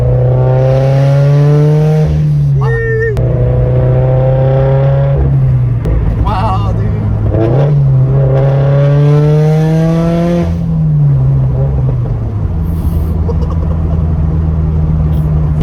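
A turbocharged Subaru BRZ with equal-length headers and a Tomei 80R exhaust revs loudly and steadily, its engine note rising and falling across the clip while people talk over it.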